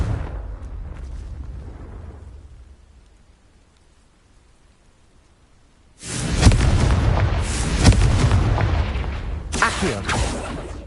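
Confringo fire spell explosion in the video game Hogwarts Legacy: after a fading crackle and a quiet pause, a loud burst of fiery blasts erupts and rumbles on, with a second burst near the end.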